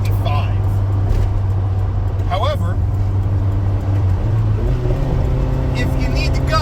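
A small mini truck engine drones steadily and loudly from inside the cab, a low hum holding under someone talking as it drives and gathers speed.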